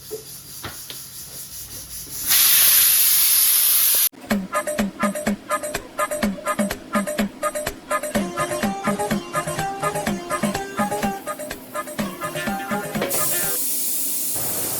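A pot of boiling potatoes on a home stove lets off a loud, steady steam hiss lasting a couple of seconds. Rhythmic background music then takes over.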